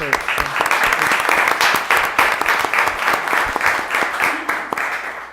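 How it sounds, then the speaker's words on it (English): An audience at a city commission meeting in Hidalgo, Texas, claps in a steady, fairly loud round of applause that holds throughout and tapers slightly at the end. "Let's give a round of applause, please."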